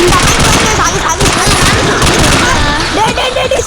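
Gunfire in the mobile shooter game Free Fire: loud, dense rapid bursts of automatic shots and booms run almost continuously through the whole stretch.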